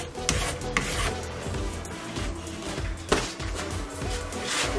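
A worn-out hand file scrapes the metal edge near the top of an alpine ski, giving close, continuous rasping strokes with a few sharper scrapes, moderately loud and with no speech.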